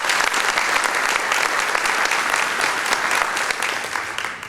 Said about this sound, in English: Let's give Kevin a great round of applause.